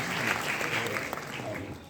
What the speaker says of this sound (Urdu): پروفیسر صدیق الرحمان قدوائی صاحب کی غالب کی شخصیت کی طرح جی تالیاں ہونی چاہیے.